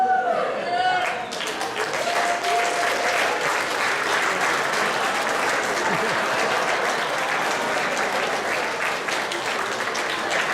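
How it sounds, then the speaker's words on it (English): Applause at a university graduation dinner: after a brief spoken line, a large room bursts into sustained, dense clapping that stays loud and steady to the end, with some voices mixed in. "I'd like to offer up not only a round of applause"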